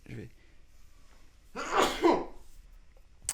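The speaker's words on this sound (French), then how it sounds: "Je vais éternuer." A single sharp sneeze bursts out close to the mic after a quiet intake of breath, followed by silence.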